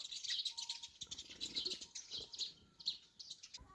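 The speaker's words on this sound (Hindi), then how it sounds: "बहुत पक्षी है इसके अंदर, गिंदूड़ी पक्षी।" Small birds called gindudi, heard in a Pahadi village, chirp in quick, high, overlapping bursts close by, a busy stream of tweets with soft rustling and fluttering underneath.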